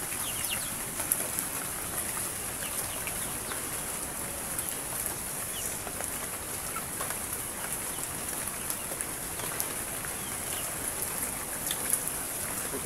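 Steady rain pours down on a cold morning, a constant even hiss close by with no breaks, and a few faint bird calls showing through now and then.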